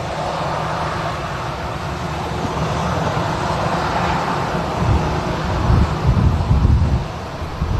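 A Jet2 airliner at Manchester Airport rumbles steadily in the distance, its low engine roar growing stronger toward the end amid wind buffeting on the microphone.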